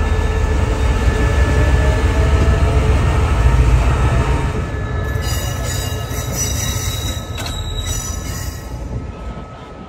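A container freight train hauled by a diesel locomotive rumbles past loudly and steadily near an inland port outside Bangkok, wheels clattering on rails with a thin metallic squeal rising toward the end.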